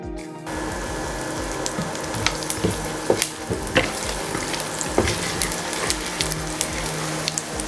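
Whole star anise, cardamom, cloves, cumin, fennel and a small cinnamon stick sizzle and crackle steadily in hot oil, a close, dense frying hiss with scattered sharp pops and spoon scrapes, no voices over it.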